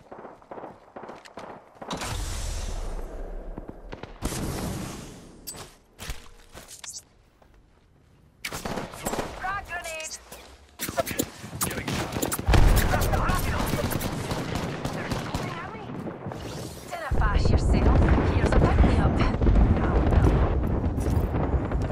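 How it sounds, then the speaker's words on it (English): Bursts of gunfire ring out in an Apex Legends match, rapid shots and heavy blasts layered over footsteps and game effects, close and loud, with a voice speaking briefly between volleys. "They're shooting at me!"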